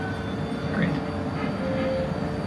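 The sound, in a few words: tram moving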